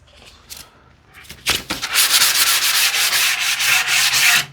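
Sandpaper rubbed by hand over wood, starting with a few light scrapes and then building into a steady, loud, close run of rapid back-and-forth rasping strokes.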